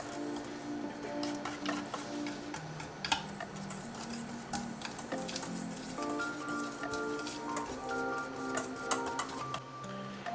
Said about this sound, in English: you're going to whisk this together and combine it for 30 seconds